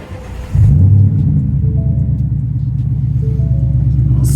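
A 2020 Ford Mustang GT V8 with a ticking fault fires up and settles into a steady, loud, deep idle rumble close by, with no talking over it.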